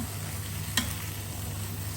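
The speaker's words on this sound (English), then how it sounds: "we give that a nice mix around" Beans and kale stirred through a black bean tarragon sauce in a pan, giving a steady soft sizzle with a single short scrape of the utensil midway, close and alone.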